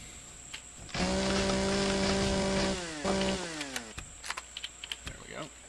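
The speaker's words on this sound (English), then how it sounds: "I'm trying to get this chainsaw down to 0." A chainsaw in the video game Empyrion Galactic Survival revs for about two seconds with a steady droning whine, cuts off, then sputters briefly before clicks and small knocks follow.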